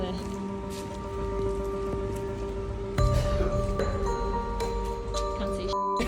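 Rain patters steadily in a dark alleyway at night, a close hiss of drops with occasional clinks, under voices speaking.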